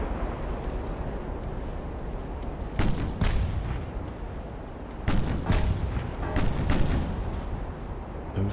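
Heavy warship guns boom in the naval battle game Ultimate Admiral: Dreadnoughts, with several loud salvos and rumbling impacts over a continuous low battle roar.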